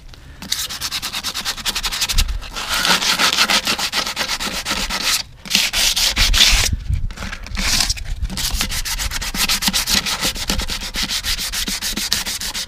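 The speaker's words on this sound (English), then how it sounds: "I'll sand them down, make them, get them as smooth as possible" Steady, scratchy rubbing of sandpaper against rusty Nissan Xterra wheels, continuous and close, with a few brief pauses between strokes.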